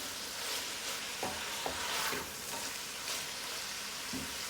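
Low mein noodles with black pepper being stirred in a pan, a soft steady sizzle with a few scraping stirs of the utensil, quiet and close.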